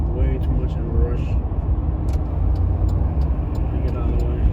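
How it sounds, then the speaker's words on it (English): Cars driving past on a Birmingham city street at night, a steady close traffic rumble with vehicles rushing by, while someone talks over it. "I don't like the way these cars are coming at me."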